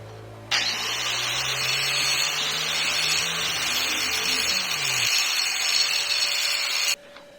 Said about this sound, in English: I'm gonna go back, smooth it up real quick, get the grinder